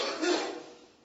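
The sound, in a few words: coughing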